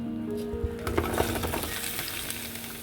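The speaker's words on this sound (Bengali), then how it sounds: "পটলগুলো এখন ভেজে নিচ্ছি" Pointed gourd pieces fry in hot oil in a pan, giving a soft, steady sizzle with a few light clinks and stirring scrapes, fairly faint and brief, with no talking.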